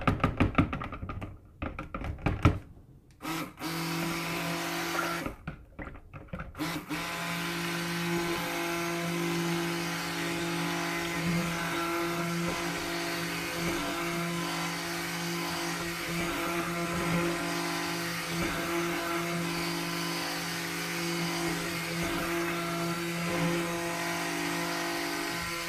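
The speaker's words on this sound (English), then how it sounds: "So put the stick blender in and we'll get going." Stick blender whirring steadily as it emulsifies lye solution and oils for homemade soap, starting after a few bursts of knocking and handling, then running continuously at an even motor hum.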